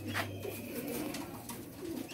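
Prized Sialkoti pigeons coo softly and low, a faint steady murmur over quiet background.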